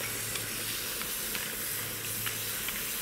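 Stock poured into chili jam in a hot wok with crabs, heard as a loud, steady sizzle and hiss of steam, continuous and close, with faint scraping ticks and no talking.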